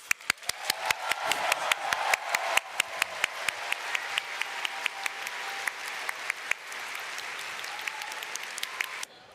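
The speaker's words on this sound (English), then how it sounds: "give him the biggest round of applause" A large audience claps steadily, sustained applause that gradually thins out toward the end.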